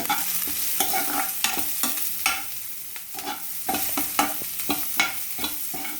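Vegetables with garlic and a pinch of turmeric sizzle loudly in a pan for sweet corn upma, stirred with steady scraping and clinking spoon strokes close by, no voices.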